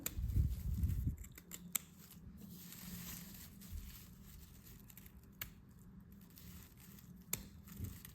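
Scissors snip through yarn on a boho summer crochet bag in a few sharp, isolated clicks over quiet handling noise, close by.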